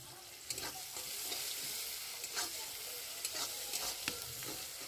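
Onions frying with black cumin in a pan, a continuous close sizzle broken by repeated scraping stir strokes and small crackles.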